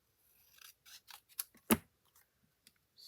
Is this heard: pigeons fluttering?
no